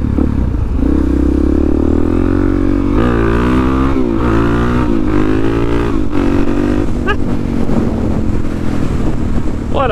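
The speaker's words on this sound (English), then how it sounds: "What a fun fucking bike." A motorcycle engine roars steadily and close up while riding, rising and falling through several revs and gear changes, with wind noise throughout.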